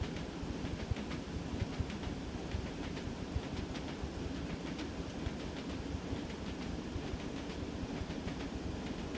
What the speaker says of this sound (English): You left the 101 in gear and train started to move while the passengers were being loaded.